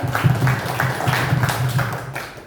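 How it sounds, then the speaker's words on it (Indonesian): Children at an orphanage clap together on cue, a brief, loose burst of rhythmic hand claps, fairly close and lively, fading out after a couple of seconds. "Oke, tepuk tangan untuk kita semua dulu"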